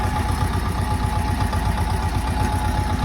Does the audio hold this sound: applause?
no